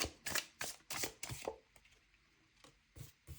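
Tarot cards shuffled by hand in a rapid run of crisp, riffling slaps, then a few sparser flicks as a single card is drawn, close up with no talking.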